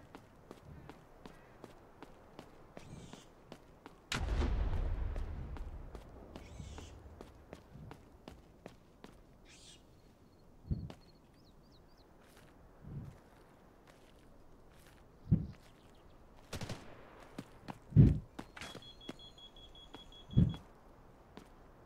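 Gunfire in the military shooter Delta Force Hawk Ops: one loud burst in the middle, then a scattering of sharp single shots and thuds, with occasional electronic beeps in the game mix.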